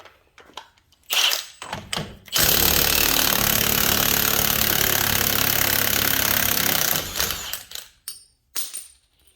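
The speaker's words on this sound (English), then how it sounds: "we're going to take this this nut off. It's a 32." A pneumatic impact gun hammers at the 32mm axle nut of a 2011 Ford Transit Connect van during a bearing job, with a few short bursts and then one long, loud continuous rattling run before tapering off.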